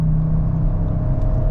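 Audi RS 6 Avant quattro, a large heavy sport estate, driving with a steady low engine drone and road rumble heard from inside, constant and moderately loud.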